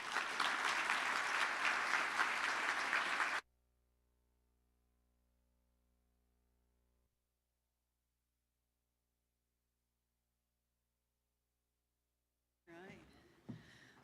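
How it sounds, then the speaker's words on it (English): A burst of loud applause from an audience after a presentation, lasting a few seconds, then it stops abruptly into silence; a brief voice is heard near the end. "So let's give another round of applause for that informative and inspiring presentation."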